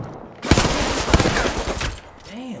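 Rapid gunfire bursts in an Apex Legends fight, a loud close string of sharp shots lasting over a second before trailing off into game sounds.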